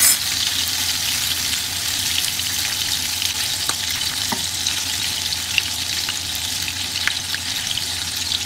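Chunks of luncheon meat and potatoes fry in a pan with a loud, continuous sizzle and occasional small pops, close up and without any talk.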